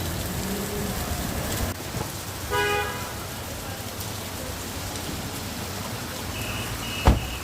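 Steady rain pours down around a car waiting to refuel, with a low traffic rumble underneath, a brief horn toot midway and another short high tone near the end.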